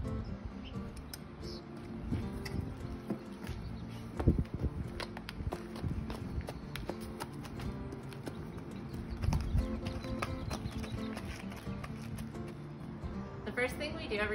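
A horse's hooves clip-clop on the ground as it is led down to a wash rack for grooming, a close, uneven walking rhythm mixed with rustling and people talking.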